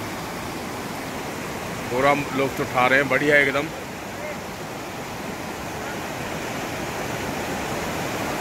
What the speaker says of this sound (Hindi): यहाँ भी कितना पानी आ रहा है पत्थर है ये देखो पानी की आवाज़ आ रही है